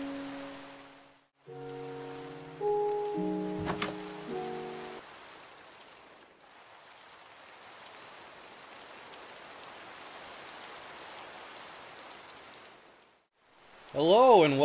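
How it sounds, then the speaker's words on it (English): Rain falls steadily in Minecraft, a continuous soft hiss lasting several seconds between brief bursts of game tones and music at the start and end. "we're gonna go right back out in the rain"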